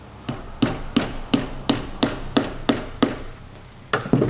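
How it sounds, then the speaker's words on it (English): A hammer taps a nail into a pumpkin in a steady run of about ten crisp, evenly spaced knocks, close and clear, with a brief pause before the last two quicker taps. "I can use a hammer or a mallet to tap this in"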